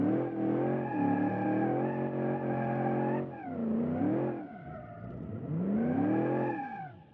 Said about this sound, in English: unfortunately the open differential is not really a donut friendly differential, but at least you can do a nice burnout